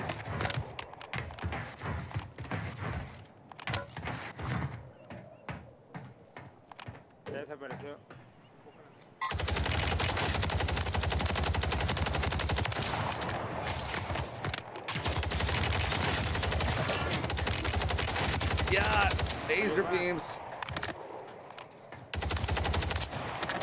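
Rapid automatic fire from an SOA Subverter battle rifle in Call of Duty on Rebirth Island comes in dense, sustained bursts with brief pauses. Someone talks over much of it.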